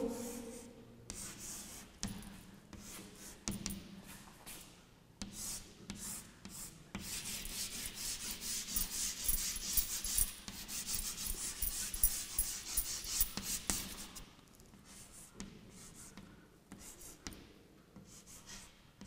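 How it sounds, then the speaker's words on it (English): Pencil drawing a rock and a bubble on paper, heard as close, continuous scratching and rubbing strokes in short bursts, with a longer steady stretch of drawing in the middle. "I'm just drawing that rock and the bubble."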